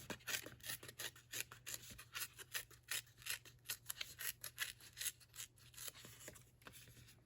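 Christmas scrap paper is ripped by hand in quick, rasping strokes, a rapid series of dry scratchy bursts, close but quiet over a faint steady hum.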